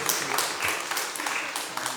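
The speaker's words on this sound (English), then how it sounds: "Keep clapping, yeah, keep clapping." Brief, steady clapping from a crowd at a school excellence awards ceremony, dense and continuous with scattered sharp hand claps standing out.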